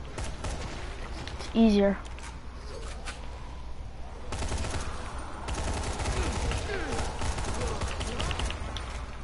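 Gunshots in Dying Light ring out in bursts amid game ambience, with scattered shots and a busier stretch of firing later on; someone speaks briefly.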